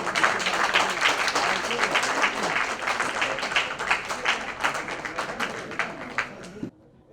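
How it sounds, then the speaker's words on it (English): A big round of applause from the audience at a tree plantation initiative launch, dense steady clapping that fills the room for about six seconds before cutting off sharply. "a big round of applause"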